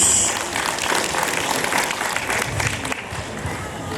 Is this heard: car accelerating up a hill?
no